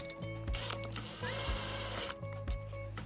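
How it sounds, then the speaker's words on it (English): Lag screws, two inches long, driven into brick with a power driver or ratchet come through as a close mechanical whirring in several short bursts separated by brief pauses, with no talking. "As I drive these lags into the 4 corner holes, I need to ensure that I don't overdrive them"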